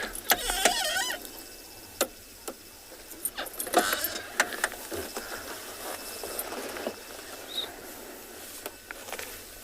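A safari vehicle creeps slowly through the South African bush in the afternoon, its low engine hum steady beneath frequent rattles, creaks and jangling clatter from the vehicle body, fairly quiet and close, with no talking.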